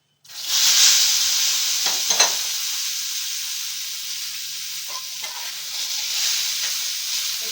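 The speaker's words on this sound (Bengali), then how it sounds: "ফোড়নটা হয়ে গেছে এবার আমি এর মধ্যে আমটা তুলে দেব" Loud, steady sizzle of mango pieces dropped into hot tempering oil for a mango and grape spiced chutney, with a couple of stirring scrapes partway through; no voices.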